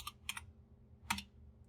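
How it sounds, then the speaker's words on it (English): A few soft computer keyboard keystrokes are heard as a number is typed in and enter is pressed, then a last click, faint and close. "if I wanted to go 45, I can just type that in and press enter"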